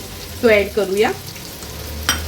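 A large chopped onion goes into hot oil for tempering in an Agri-Koli style fish thali. A voice speaks briefly first, then a short sharp sizzle and hiss bursts up near the end.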